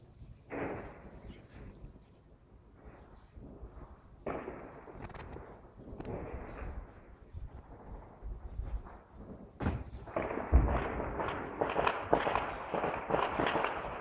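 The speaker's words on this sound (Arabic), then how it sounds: "القصف المتواصل على المدينة وإطلاق رصاص" Repeated booming shelling blasts and bursts of gunfire echo at a distance over the city of Qusayr, Homs, Syria, irregular and rumbling, with occasional faint voices in between.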